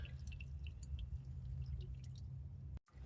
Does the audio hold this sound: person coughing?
no